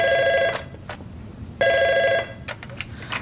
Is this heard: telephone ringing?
yes